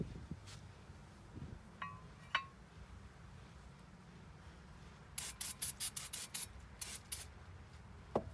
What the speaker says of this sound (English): since I have brake cleaner right here, might as well.